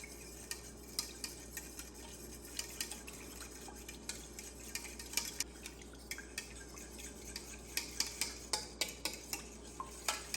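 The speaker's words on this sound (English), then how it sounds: "Now I'm just going to basically scramble this egg up in here." An egg being whisked in a bowl for sandwich bread dough, with rapid, steady light taps of utensil against bowl, close and fairly quiet.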